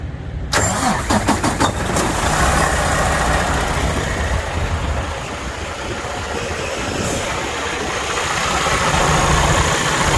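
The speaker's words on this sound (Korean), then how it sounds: "시동한번 걸어봤네" A truck engine cranks and catches about half a second in, then settles into a steady, loud idle that runs for the rest of the clip at the start of a trucker's pre-trip inspection, with no talking.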